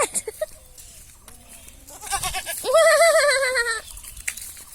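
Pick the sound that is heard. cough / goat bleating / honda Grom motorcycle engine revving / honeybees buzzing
goat bleating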